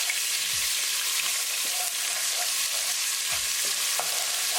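Ginger, garlic and green chili paste frying in hot oil with cumin seeds, a steady sizzle filling the clip while a utensil stirs it with occasional low scrapes.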